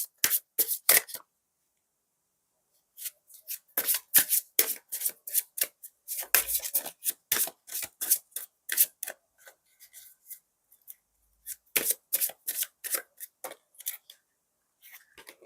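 Lenormand tarot cards are shuffled by hand in quick bursts of crisp riffling and sliding, close and clear, separated by brief silent pauses.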